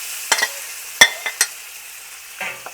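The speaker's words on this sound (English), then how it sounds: "Basically, we're gonna cook until the meat turns white." Pork frying in a hot wok, heard as a few short bursts of sizzle and stirring clatter, close and moderately loud, with quiet gaps between them and no voices.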